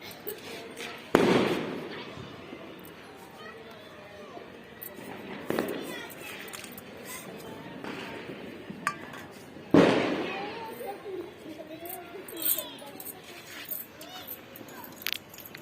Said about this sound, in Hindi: पटाखे तो पहले से ही बनना शुरू हो गए थे।